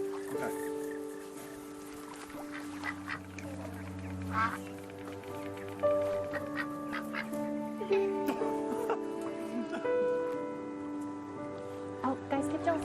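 Ducks quack repeatedly at a pond in the video game That Dragon Cancer, with scattered honks and calls over a soft ambient music bed and occasional voices.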